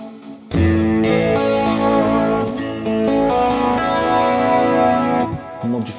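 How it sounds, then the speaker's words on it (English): Electric guitar through a Quad Cortex with the delay turned up, a sustained chord ringing with echoing repeats and a chorus-like shimmer, loud and continuous for several seconds. "now I can increase the delay."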